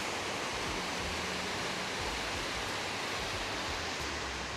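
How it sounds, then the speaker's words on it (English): A small river pours out of a tiny gorge near Beechworth, a dense, unbroken rush of water filling the air at an even level with no voices. "it's pretty nice the way it comes out of this tiny little gorge, and you can follow it all the way up this tiny little river"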